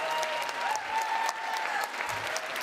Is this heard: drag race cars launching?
no